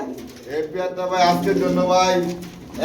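Pigeons of a grizzle nine-feather pair coo close by in a seller's market setting, a low rolling coo repeated over about three seconds beneath faint background voices.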